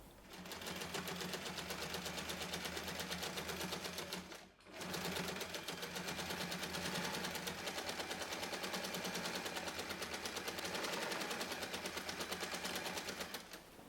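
A sewing machine stitches straight across the corners of a color block tote bag, a steady rapid needle rattle running close and loud for most of the stretch, pausing briefly once before resuming alone.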